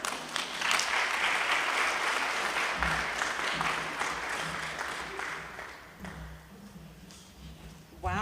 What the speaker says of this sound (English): I think we need to give that another round of applause.